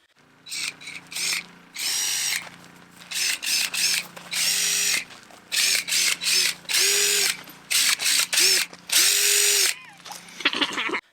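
A power drill drives screws into a wooden fence post, about ten short whirring bursts in quick succession, each rising in pitch as the screw seats, with brief pauses between them, close and loud.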